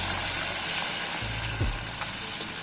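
Meat sautés in a pot covered with hot water for a sweet Constantine dish, a steady close hiss and sizzle with a brief low bubbling stir partway through.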